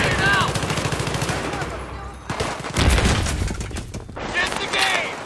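Gunfire in a video game team deathmatch: bursts of rapid automatic fire and scattered single shots, loud and near, with a heavy thump midway and brief pauses between volleys.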